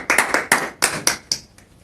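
A church congregation claps in a short, uneven burst of a few loud, distinct claps that thin out and fade away near the end.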